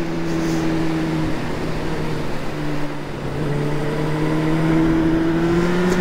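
A motorcycle engine hums steadily and loudly on a winding mountain road in the Gorges de la Bourne, its pitch dipping briefly and then climbing, close to the microphone with wind noise and no talk.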